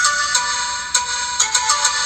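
Synthesized melody from an original song, played in FL Studio: a short run of bright, chiming plucked notes with several sharp note attacks, loud and close with no voices.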